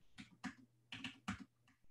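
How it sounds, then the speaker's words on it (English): Fingers tap quickly on a computer keyboard in short, uneven bursts of soft clicks, quiet and close, with no voice. "I need to get better at typing."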